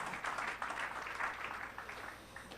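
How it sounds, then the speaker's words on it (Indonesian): A congregation applauds during a Sunday church service, a soft steady patter of many hands clapping at a distance, fairly faint and continuous for a couple of seconds. "Berikan tepuk tanganmu."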